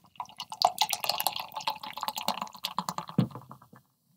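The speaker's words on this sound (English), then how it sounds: "Let's go ahead and pour this." Enter Night Pilsner beer poured from a can into a glass, a close gurgling and splashing stream with fizzing bubbles that fades out at the end.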